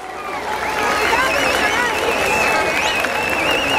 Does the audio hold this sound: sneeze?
no